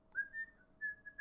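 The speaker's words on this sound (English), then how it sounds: "I was whistling." A person whistles a short, faint two-part tune, a thin steady tone broken by a brief pause, with no talking around it.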